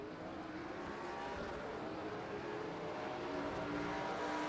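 Race cars in the NASCAR iRacing game do burnouts at Talladega, producing a steady, dense engine roar with tyre noise that holds at an even level throughout, at low volume.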